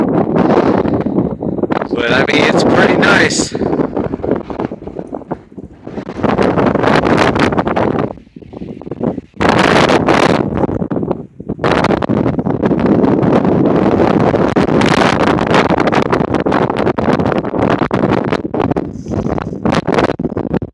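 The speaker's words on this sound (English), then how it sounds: "Like I said, it's really windy." Strong wind on a hillside roars and buffets the microphone almost continuously, with a few brief lulls between gusts and someone speaking over the noise.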